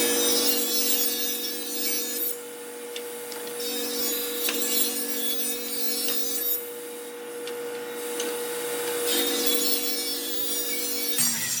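A table saw cuts fence picket wood into 1.5-inch strips. The motor whines steadily and loudly close by, and the pitch dips and swells as the blade bites through each strip, with no talking.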